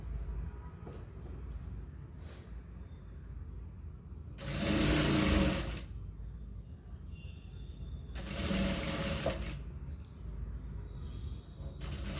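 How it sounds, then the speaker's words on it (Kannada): A sewing machine stitches piping onto a ready-made blouse, running in two loud bursts of about a second each with quieter handling in between. "ಕೈ ಮಾತ್ರ ಹುಷಾರಾಗಿ ನೋಡಿಕೊಂಡು ಹೊಲಿ"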